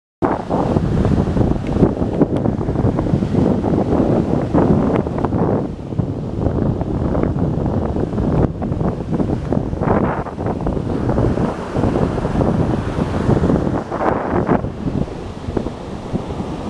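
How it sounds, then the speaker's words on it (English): Strong wind buffets the microphone by the sea, a loud, continuous rumbling roar with gusty swells and dips, surf-like wash blended underneath, with no voices heard. "It is too windy."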